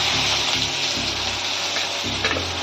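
Onions sizzling in hot oil with two bay leaves in a pan for a steamed egg curry, a steady loud fry with a few soft stirring clatters, no talking.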